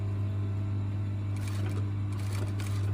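A sewing machine stitches a collar seam, roll collar on top and back underneath with a 1 cm seam allowance, running as a steady, continuous motor hum with faint needle clatter, close and alone.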